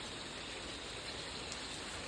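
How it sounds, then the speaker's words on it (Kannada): Heavy rain with wind at night in Bantwal town, a dense, continuous hiss of falling water and rushing air, steady and close, with no voices over it. "ಬಂಟ್ವಾಳ ಪೇಟೆಯಲ್ಲಿ ಅತ್ಯಂತ ಮಳೆ, ಗಾಳಿ ಮಳೆಯಲ್ಲಿ ಸಿಕ್ಕಾಕೊಂಡಿದ್ದೇವೆ ನಾವು"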